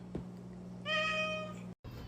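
A cat gives one clear, drawn-out meow close by, over a low steady hum, followed by a brief cut to silence.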